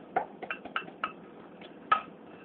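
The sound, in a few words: stirring dry-roasted coconut in a hot pan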